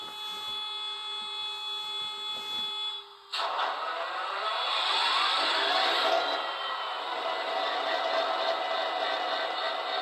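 An HO scale Bowser SD30C-ECO model locomotive plays onboard sound effects: a steady tonal hum that abruptly switches to a louder, rumbling diesel-like roar that holds to the end.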